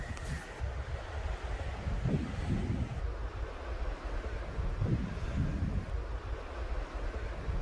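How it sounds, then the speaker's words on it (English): Steady wind buffeting the microphone with low rumbling gusts, over a faint background wash of surf at a New England beach near a cranberry bog on Plum Island, no voices. "It's getting windy, people."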